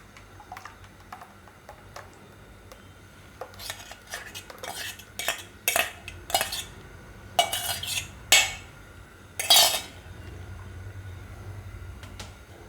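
A spoon scrapes and clinks against a pan while tamarind-date chutney pulp is stirred, with irregular strokes that grow louder and sharper toward the middle and end.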